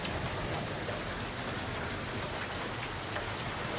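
Steady rain falls during a storm, a dense, even hiss of drops on surfaces throughout, with no voices.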